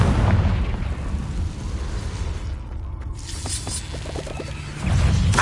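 Confringo blasting curse in Hogwarts Legacy: a loud fiery explosion burst opens, crackling debris settles, then another heavy blast roars back in at the end.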